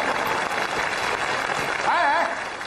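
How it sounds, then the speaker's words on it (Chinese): A comedy sketch audience applauds in a steady wash of clapping, with a voice speaking over it. "就这还得鼓掌，每回都这么说的"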